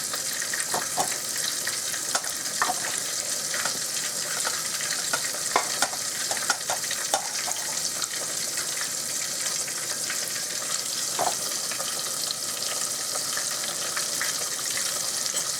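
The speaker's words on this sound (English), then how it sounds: "so if there's any spattering of the oil, it stays in the pot" Fish frying in oil in a deep pot, a loud, steady, close sizzle with scattered crackles and pops throughout.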